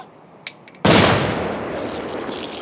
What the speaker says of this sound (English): I'm just throwing nades at him